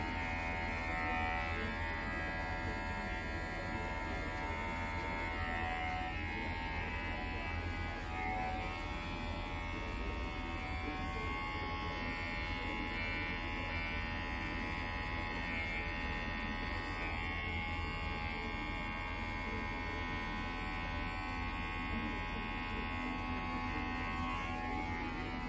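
Electric clippers with a 9mm guard buzzing steadily while trimming eyebrows, a close, constant motor whine with little variation.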